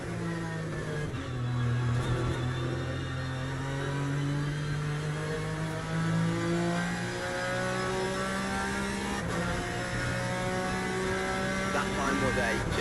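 Several LMP hypercar engines racing in Le Mans Ultimate, a steady layered drone of cars passing and shifting through rising pitches, heard at moderate level under someone talking.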